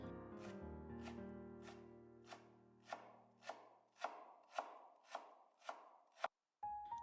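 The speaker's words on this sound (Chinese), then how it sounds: "再切成粗一点的细丝。" A knife slicing a halved leek-like scallion into thick shreds on a board, a steady series of about ten crisp, evenly spaced chops, close and clear, with no talking.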